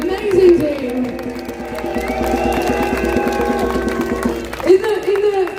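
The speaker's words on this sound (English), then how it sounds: "can you give a massive round of applause to my amazing team" A crowd at a London demonstration against digital ID applauds and cheers, outdoor clapping mixed with crowd noise beneath a voice speaking over it.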